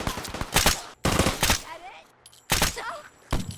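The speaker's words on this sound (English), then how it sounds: "Oh, we're still being shot at." Gunfire in Fallout 4 cracks out in short, bassy bursts of rapid shots separated by gaps, with a voice talking faintly between the volleys.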